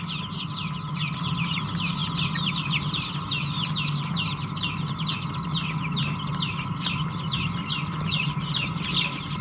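Young chicks in a brooder cluck and cheep continuously, a busy overlapping chorus of small peeping calls over a steady low hum, close and moderately loud with no talking.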